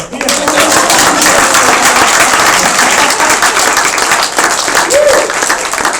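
Applause from a lecture audience, dense and loud clapping that stays steady across several seconds, with a brief voice or cheer near the end.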